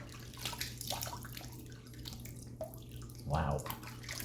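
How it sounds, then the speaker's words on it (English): A West Coast Shaving Lithe safety razor rinsed under running tap water, a steady close wash of splashing flow with a brief louder gush near the end, no talk. "Let's give it a quick rinse."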